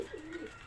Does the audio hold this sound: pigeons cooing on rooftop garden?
yes